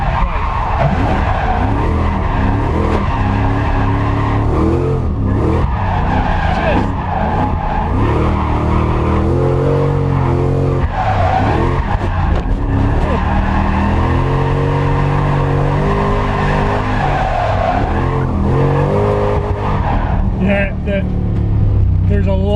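A Lexus IS200 fitted with a 1UZ V8 engine drifts, its engine revving hard and rising and falling while tyres squeal, loud and close throughout, with a voice talking over it.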